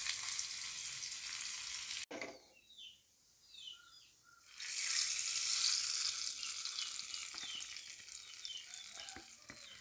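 Small onions added to hot oil for a jackfruit seed curry, with a loud steady sizzle that drops out briefly, then returns even stronger and continues close by; faint bird chirps sit in the background.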